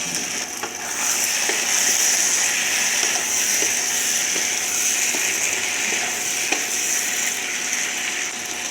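Capsicum and softened tomato fry together in a pan, giving a steady, continuous sizzle with faint clicks and small scraping ticks scattered through, no voices over it.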